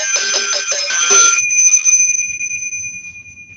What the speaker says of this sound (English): Let me do the bells here, hold on.